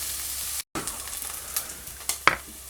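Onions sweating in a pan for spaghetti bolognese give a steady soft sizzle, with a brief dropout early on and a few sharper crackles and utensil taps toward the end.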